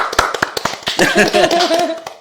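A few scattered hand claps at a lively gathering for tourism ambassadors, sharp irregular taps mixed with cheering voices and talk.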